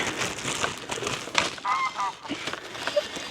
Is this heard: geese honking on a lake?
yes